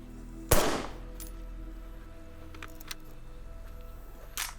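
A machine gun fires one loud, sharp shot up close, then a long stretch of low background hum and faint ticks, ending with a softer second burst.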